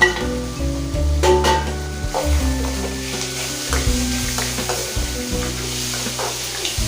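Tomato chutney frying in a pan with asafoetida and roasted chillies, sizzling steadily while a spoon stirs and scrapes against the pan in repeated strokes, close and fairly loud.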